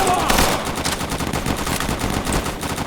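Sustained machine-gun suppressing fire in a WWII video game battle at a Volga River crossing, dense rapid bursts rolling continuously for a few seconds amid the wider din of combat.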